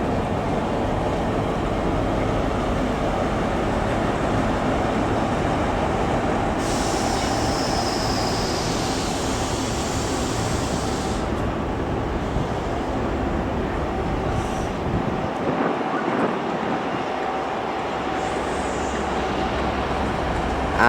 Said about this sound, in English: here comes a Scotrail service. This is the one from Aberdeen.